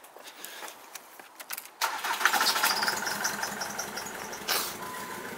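A Ford Mondeo mk3 diesel, just repaired for a flashing coil-light fault, cranks briefly after some quiet clicking and fires up. It settles into a close, steady, slightly clattery idle.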